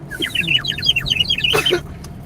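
A woman whistles a quick run of bright, chirping bird calls, a lively imitation of birdsong, followed by a short burst of rustling noise.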